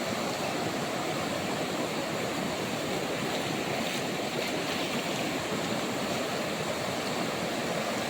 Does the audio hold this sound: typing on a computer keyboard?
no